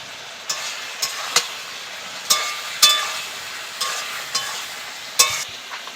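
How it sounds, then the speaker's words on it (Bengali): Ground ginger paste frying with chili powder and spices in a pan for a Bengali catla fish curry with ridge gourd and pumpkin, heard as a soft, steady sizzle punctuated by a handful of sharp spoon clinks and scrapes, without talk. "এখন আমি এর মধ্যে বেটে রাখা আদাটাকে দিয়ে দেবো।"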